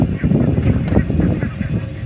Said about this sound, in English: There's one stalking the geese.